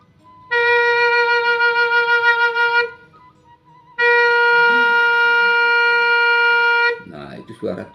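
Two sustained breathy notes, the pitch ti, played on a six-hole Sundanese suling pelog bamboo flute, each held for a few seconds with a short gap between, followed by a brief burst of speech.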